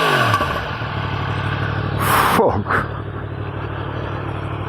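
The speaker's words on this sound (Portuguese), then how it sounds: "Olha para este som. Aqui deste escape em titânio." A Yamaha MT-10 motorcycle with a titanium exhaust idles with a steady, throaty rumble, then revs sharply once near the middle before settling back; a voice briefly exclaims over it.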